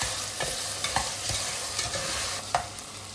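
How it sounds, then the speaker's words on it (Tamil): Potato pieces sautéed with ginger-garlic for veg pulao give a steady sizzle under repeated scraping stirs of a spoon in the pan, close and moderately loud, with no voices. "இதையும் சேர்த்து நல்லா வதக்கிக்கலாம்."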